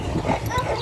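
A pit bull named Big gives a brief bark or yip, close by, heard amid a background of people talking.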